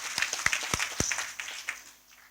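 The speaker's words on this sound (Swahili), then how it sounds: "Mpigeni makofi." An audience at a family thanksgiving mass in Nkasi applauds. A handful of distinct, sharp claps ring out at first, then fade into softer scattered clapping, fairly quiet and brief, with faint voices beneath.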